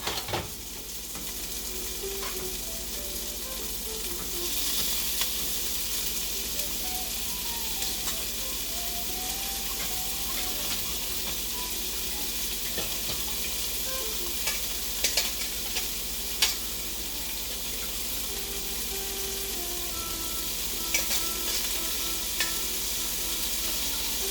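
Broccoli stir-fries with shrimp in a pan, making a continuous close sizzle that holds for the whole stretch, with scattered light ticks and clinks of utensil against pan and no talking.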